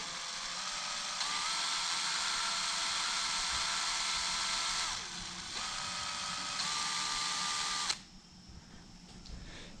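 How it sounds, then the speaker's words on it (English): A power drill twists several wires together, whirring steadily for several seconds, its motor pitch shifting briefly mid-run, then stops abruptly near the end. "You put your wires, 2, 3 wires, whatever, in a drill."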